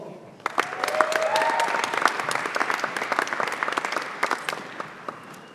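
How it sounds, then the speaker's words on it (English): Graduation ceremony audience applauds in a full round of clapping, a steady wash that thins into scattered individual claps near the end, with a brief voice audible early on. "Please join me in a round of applause for Beverly O'Connor, our esteemed name reader."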